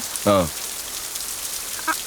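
Steady rain hiss fills the background throughout, with a short honk-like call near the start and another faint one toward the end.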